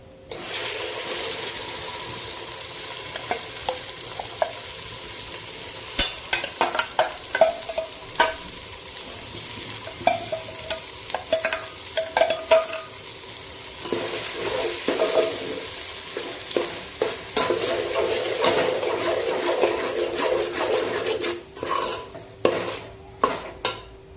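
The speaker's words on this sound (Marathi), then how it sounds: "त्यानंतर मी यामध्ये कांदा, लसूण, अद्रक आणि कोथिंबीर यांचं वाटण करून घेतलेलं आहे. ते पण चांगलं परतवून घेते." A ground paste of onion, garlic, ginger and coriander sizzles and fries in a pan for a spicy Maharashtrian mutton rassa, with steady frying hiss and repeated scraping stirs and utensil clinks against the pan, close and unbroken by talk.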